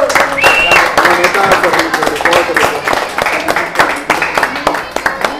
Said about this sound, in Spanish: un aplauso para el Panterita, un aplauso para el Panterita